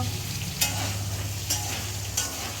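Potato slices frying in a pan, a steady sizzle over a low hum, with three brief louder crackles as the pieces are stirred.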